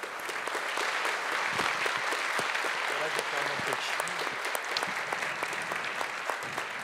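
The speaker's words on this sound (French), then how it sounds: "si vous pouvez les applaudir" Audience applause for the founders of an accessible board-game association at a 2022 special jury prize ceremony, a steady dense wash of clapping from a crowd lasting throughout, with a voice faintly audible beneath it.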